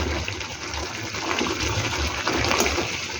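Paneer water poured into a hot pan of paneer with oil and spices makes a continuous rushing gush and bubbling hiss for a few seconds, with no voices.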